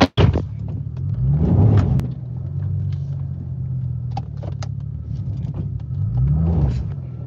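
A salvage C8 Corvette Z51 engine idling with a low, uneven, misfiring rumbling exhaust, close up, swelling briefly a couple of times as if lightly revved.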